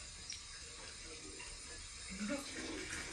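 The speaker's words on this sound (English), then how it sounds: "That's actually me taking a shower." Shower water runs continuously as an even, close hiss of spray, with a faint low voice briefly under it near the end.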